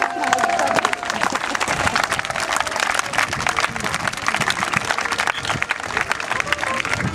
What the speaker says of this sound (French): on l'applaudit bien fort